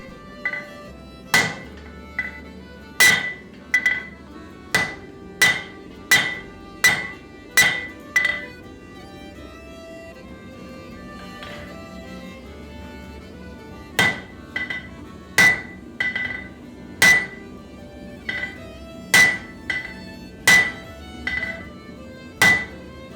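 A hammer strikes a steel bar on an anvil while forging a folded axe, sharp ringing blows coming in rapid regular runs broken by short pauses, close and loud with no talk.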